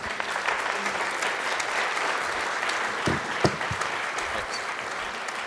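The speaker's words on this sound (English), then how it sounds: "that was kind of a lame round of applause for Simon" A conference audience gives a round of applause after a talk, steady dense clapping throughout at moderate loudness, fairly even with no cheering.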